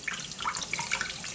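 Tap water runs steadily into a sink as squid is rinsed before grilling. The stream is close and continuous, with a soft splashing hiss, and no one speaks.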